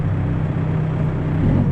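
A backhoe engine running with a broken muffler gives a loud, steady, throaty rumble with a rough low drone that holds without pause, no voices over it.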